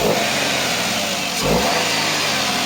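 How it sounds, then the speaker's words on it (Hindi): Engine of a 2015 Maruti Wagon R VXI hatchback revving, a loud continuous mid-pitched drone with a brief surge partway through, close to the car with no talking. "रेस मारो तो टर्बो सुना दो गाइस इस गाड़ी का"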